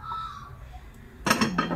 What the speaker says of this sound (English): We have some more plain white plates,